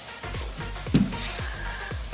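Steady frying sizzle of masala in a pan for cabbage gravy, with repeated scraping strokes of a spoon stirring, a few clear knocks against the pan, no voices.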